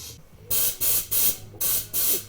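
Compressed air blows off the hood of a Studebaker Avanti under restoration in five loud, evenly spaced hissing bursts, each about a quarter second long, with short quiet gaps between.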